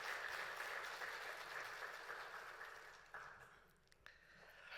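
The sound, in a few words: congregation applause in church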